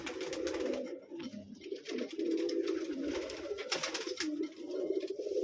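A racer pigeon sitting on its egg in a loft coos steadily and close by, soft throaty calls rolling on without a break.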